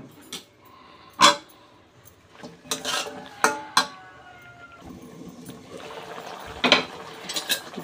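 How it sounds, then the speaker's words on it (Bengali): Bottle gourd stir-fried in a pan, heard as scattered clanks and scrapes of a utensil against the pan over a low sizzle, close and intermittent, with no talk. "এই তো লাউটা আমি কষিয়ে নিচ্ছি, আর একটু ভালোভাবে কষিয়ে নেব"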